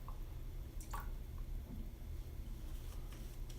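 Barrister and Mann Vespers shaving soap is worked into a glossy lather, giving faint, intermittent wet squishes and soft clicks over a quiet steady hiss.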